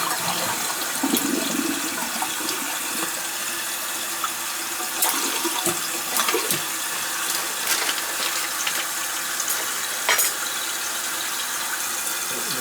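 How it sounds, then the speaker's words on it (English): A toilet tank and bowl refilling with water after repairs, a steady rushing gush with faint squeaks and clicks, close and alone without talk. "or the tank, the bowl, or the tank won't fill, the bowl won't fill up with water."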